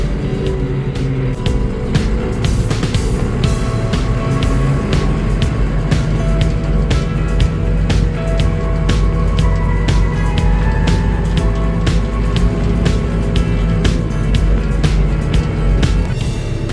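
A new Scout TB-904 C tractor being run in across its operating modes in -10 °C cold, its engine droning steadily and loudly throughout with dense mechanical rattle and no talk.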